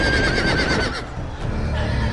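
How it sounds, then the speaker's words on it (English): A horse in a Game of Thrones video game lets out a loud, close whinny that rises and then trails off, followed by a rumble of hoof noise and commotion. "Oh shit, that's a horse."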